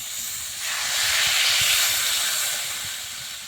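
Water is poured into a pan of cooking vegetables, setting off a loud, close hiss that swells up after a brief pause, peaks, then slowly fades.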